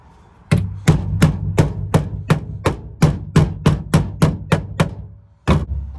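Sharp, ringing hammer blows strike a metal patch piece being shaped for a rusted floor repair, about a dozen evenly spaced hits in a steady rhythm, then a short pause before one final strike, close and loud.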